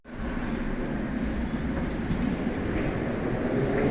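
Moscow Metro subway train in motion, a continuous rumbling roar with faint rhythmic rail clatter and occasional metallic squeal, steady and moderately loud throughout.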